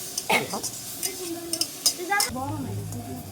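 Fish and khesari greens stirred and fried in a pan, spatula scrapes and soft sizzling close by, with a voice talking over the cooking.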